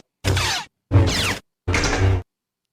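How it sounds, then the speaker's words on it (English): Three swelling lightsaber clashes, each about half a second long, crackling and humming with a low drone underneath, separated by short silences and heard loud and close with no voices. "that is the sound of lightsabers clashing"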